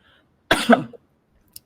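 A single harsh cough close by, one short burst with a rough tail, then quiet apart from a faint click.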